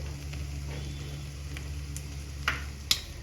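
Chicken gizzards fry with spices in a pan, a soft steady sizzle under a low hum, with a couple of sharp ticks from a utensil near the end.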